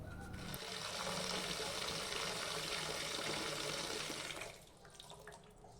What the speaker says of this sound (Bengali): এদিকে এখন আমি সবজিটা ধুয়ে নিচ্ছি